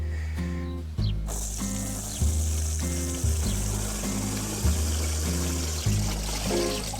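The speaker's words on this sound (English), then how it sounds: "So we'll pour that into there." Water is poured from a splash bucket in a garden, giving a steady rushing, splashing pour that runs the whole time under a loud, droning musical backing.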